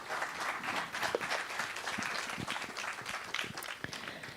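Applause from participants at a 5G network security conference, a dense, steady wash of many hands clapping in a hall, moderately loud and continuing without pause.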